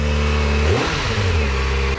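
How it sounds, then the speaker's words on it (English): A Kawasaki Ninja ZX4R motorcycle with its stock OEM exhaust revs up sharply and then falls back, loud and close, with no talking. "this is what the bike sounds like with the OEM exhaust"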